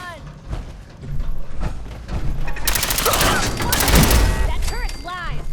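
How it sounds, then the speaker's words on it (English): Automated turret firing in the video game Fallout 4, sustained rapid bursts of gunfire and thumping impacts building over several seconds, loud and close, with a voice shouting over it. "That turret's live!"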